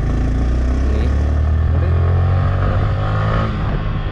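Yamaha R15 V3 BS6 motorcycle with an 18.37 bhp engine, fitted with an aftermarket exhaust, accelerating hard; a loud, steady engine drone builds without a break throughout, with no talking.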